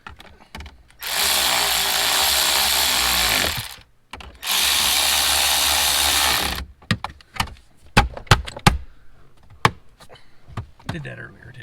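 A power drill driving bolts down into the radio trim of a 2017 Ford 6.7 truck, two loud whirring bursts of a few seconds each, then clicks and handling noises while people talk nearby.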